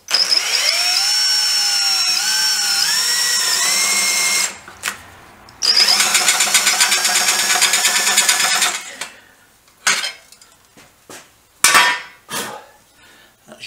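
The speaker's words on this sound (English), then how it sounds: "Let me get this hole drilled." A power drill bores a 1/4 inch hole through metal on a Triumph 500 Otter, with a loud whining spin that changes pitch as it cuts, a pause, another long run, then short bursts and clunks.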